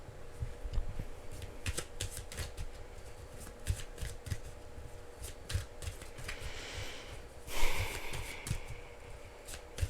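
A deck of cards is shuffled close up in a quiet room, a run of rapid riffling bursts and soft flicks over about ten seconds, with one louder burst near the end.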